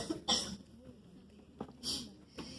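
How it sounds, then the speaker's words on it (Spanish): Someone coughs in a quiet indoor room: two short dry coughs, then a softer throat-clearing cough, close to the listener and faint overall. "Ya me contagió su tos el doctor."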